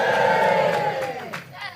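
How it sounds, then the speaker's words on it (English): Comedy club audience at Hot Water Comedy Club cheering and whooping loudly in a short burst that fades out over under two seconds. "Give me a cheer if you've been to Amsterdam"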